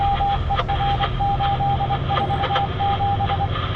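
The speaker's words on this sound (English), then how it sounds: "Someone translate that Morse code." Morse-code-like beeping inside a truck cab during a winter chain-up: a steady tone pulses in short and long beeps over a loud, constant engine rumble.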